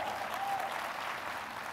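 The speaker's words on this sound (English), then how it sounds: "Clap if you've been there." An audience at a fitness convention applauds, a dense steady wash of many hands clapping together, sustained and even throughout without breaks.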